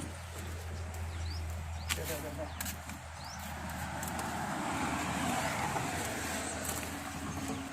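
A motor vehicle rolls past on a rural road, its engine hum swelling in the middle and fading, with birds calling and a voice talking nearby throughout.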